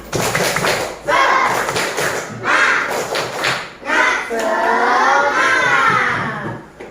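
Children in Sukoharjo clap a rhythmic spirit-clap pattern together, sharp clap bursts in short groups mixed with loud chanting voices, close and energetic.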